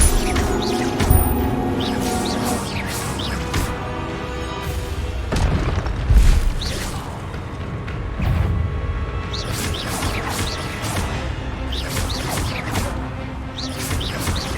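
An Expelliarmus spell is cast in the Hogwarts Legacy video game, with booming magical impacts near one and six seconds over a busy bed of whooshes, chirpy sparkles and ambient effects.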